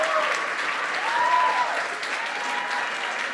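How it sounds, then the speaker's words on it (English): Steady applause from a gala audience, a fairly loud, continuous round of clapping that holds evenly throughout with no lull. "I got that miserable, tepid round of applause"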